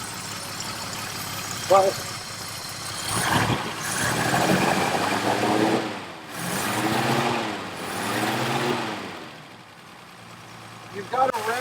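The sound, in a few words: engine running with Zenith 3540 carburetor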